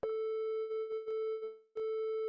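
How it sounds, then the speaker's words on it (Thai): A synthesizer preset set to a triangle wave holds one steady, clean mid-pitched tone with faint overtones. It is sustained throughout with a few brief dips and one short gap, and plays alone. "ปิดไปเป็นทริแองเกิลอันนี้คือคลื่นแบบสามเหลี่ยมลองฟังเสียงดู"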